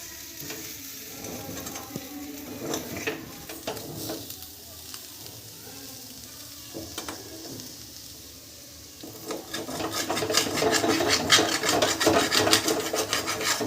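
A spoon scrapes stuck masala off the bottom of a pan of jeera dum aloo, a steady close rasping over a faint sizzle that grows louder and busier toward the end.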